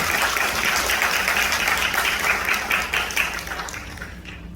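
A hall audience at a Gwangju social service institute day talk concert claps steadily to welcome a presenter, a dense, even roar of many hands that tapers off slightly at the end.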